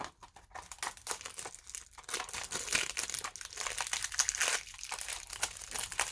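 Sealed cassette tape packaging is torn and unwrapped, making close, continuous crinkling and crackling of plastic film with no one speaking.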